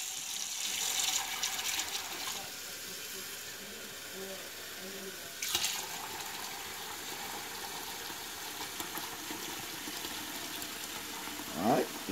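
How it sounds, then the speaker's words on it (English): Water runs steadily from a tap into a pipe during a test run, a constant rushing hiss at moderate level with a few brief knocks and splashes. "We gonna run a little water in it."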